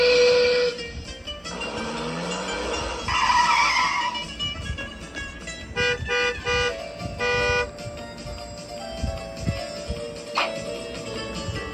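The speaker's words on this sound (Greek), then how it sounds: "Το αυτοκίνητο." A car skids with loud squealing tires, then drives off amid engine noise and short horn toots, with a busy, racing-style backdrop.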